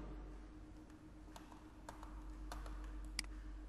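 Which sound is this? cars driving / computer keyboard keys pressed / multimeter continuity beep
computer keyboard keys pressed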